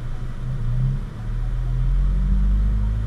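A 2017 Honda Civic engine runs close up as the throttle is opened, giving a loud, low, steady rumble that swells slightly through a short stretch.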